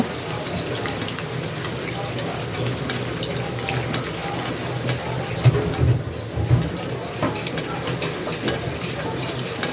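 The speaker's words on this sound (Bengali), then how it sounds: "প্রথমেই কড়াইতে সরিষার তেল দিয়ে দিলাম তেলটা গরম হয়ে গেলে ওতেই আমি কিছু আলু ছেড়ে দেব আলুগুলো ভাজার জন্য" Potatoes frying in hot mustard oil in a wok, a steady dense sizzle with occasional stirring scrapes and louder bursts near the middle, close and continuous with no talking.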